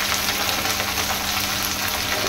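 Spice paste frying in a pan for a fish and cauliflower curry, giving a steady, dense sizzle with a faint hum underneath, close and continuous throughout.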